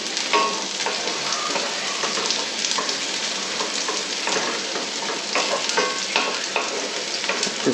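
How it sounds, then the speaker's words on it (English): Onions fry in a pan for Mexican refried beans, giving a steady, loud, close sizzle with crackling pops and occasional stirring scrapes throughout. "So they need to be fried so they can get crispy"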